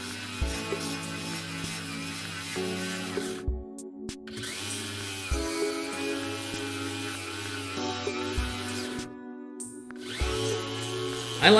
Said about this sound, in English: you'll hear the grinder periodically stops